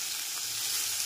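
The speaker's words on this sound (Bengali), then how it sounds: "টমেটোটা পেঁয়াজ রসুনের সাথে ভালো করে কষিয়ে নিতে হবে।" Tomato frying with onion and garlic in a pan gives a steady, soft sizzle that hisses evenly through the short moment, close and alone with no voices.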